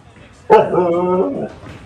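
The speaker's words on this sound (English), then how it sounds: "Yes, the dog's definitely frustrated." A frustrated dog lets out one sharp bark that stretches into a long, whining whimper lasting about a second, close and loud, followed by a faint trailing whine.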